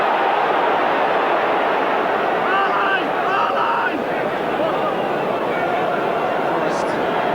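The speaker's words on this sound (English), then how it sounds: "a very big crowd at the City Ground, trying to help out their team in a time of need" A big football crowd at the City Ground roars steadily in support of Nottingham Forest against Southampton, a dense continuous wash of noise with a commentator talking over it.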